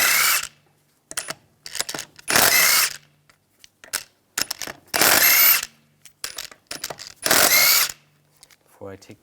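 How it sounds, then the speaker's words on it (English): An impact wrench with a 17mm socket removes the lug bolts from a 2001-2006 BMW 325Xi wheel in loud, close bursts of rattling hammering, separated by short pauses and lighter clicks. "use a 17mm socket, take the lug bolts out"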